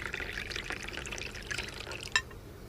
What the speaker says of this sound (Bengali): চেয়ারে বসতেই ফ্লাস্ক থেকে কফি ঢেলে